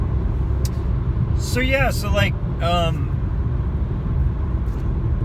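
Road noise from a car driving close behind a large semi-truck, a steady low rumble running throughout while a person talks over it.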